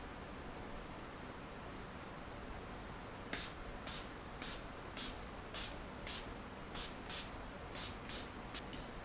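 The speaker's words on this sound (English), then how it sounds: "Now I'll be going in with the setting spray." After a soft steady hiss, a makeup setting spray bottle fires about ten quick, evenly spaced misting bursts close to the microphone.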